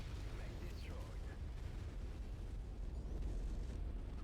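A mech blowing apart in the MechWarrior 5 video game, a dense rumbling roar of explosion and debris that stays loud and continuous throughout, with a brief rising tone near the start.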